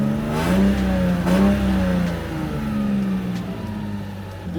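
A Lexus IS200 engine after a throttle body mod, idling high and then slowly settling, a close, steady hum whose pitch wavers and sinks over several seconds with faint clicks on top.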